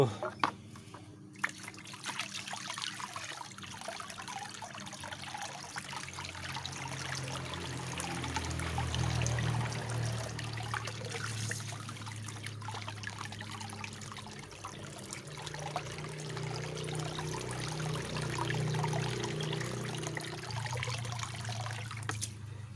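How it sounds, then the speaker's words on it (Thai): Water running over a clogged motorcycle fuel filter as it is washed out, a steady trickling and splashing stream lasting throughout, moderately close, with a low background hum and occasional faint talking. "ส้กรองน่าจะตันนะครับเพื่อน เราจะเอาน้ำล้างดู"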